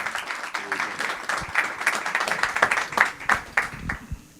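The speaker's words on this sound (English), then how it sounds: "Let's give him a round of applause." An audience at a musicians' panel event claps for a newly introduced band member, giving about four seconds of dense, steady applause that fades out at the end.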